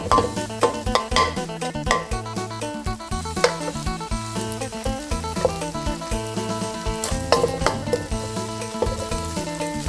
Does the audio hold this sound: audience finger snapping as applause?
no